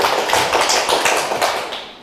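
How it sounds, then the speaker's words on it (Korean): A lecture-hall audience breaks into brief applause, a dense burst of many hands clapping close by that fades out within about two seconds. "박수 한번 쳐주시고."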